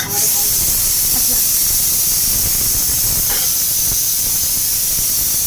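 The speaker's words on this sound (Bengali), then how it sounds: "ওদিকে মাটনের সিটি দিচ্ছে আর গন্ধ বেরোচ্ছে" A pressure cooker holding mutton whistles with a loud, steady jet of hissing steam that runs unbroken from start to finish, close by in a home kitchen.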